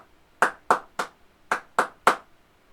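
Six crisp hand claps, close and distinct, sounding in two groups of three with a short pause between the groups and near silence around them, during a classroom music lesson.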